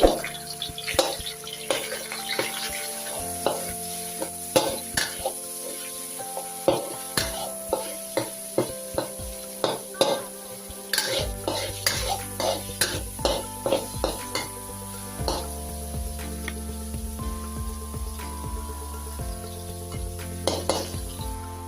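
Cauliflower stir-fried with minced pork in a pan: a rhythmic run of metal spatula scrapes and clanks over a continuous sizzle, close and busy for about twenty seconds, with a faint voice at moments.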